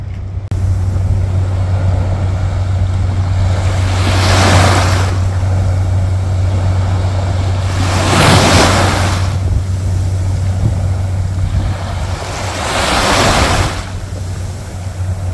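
Sea waves breaking on the shore at Nishinomiya, Japan, three broad surges rolling in one after another at steady intervals over a constant low hum and wind, fairly loud and close, with no voices.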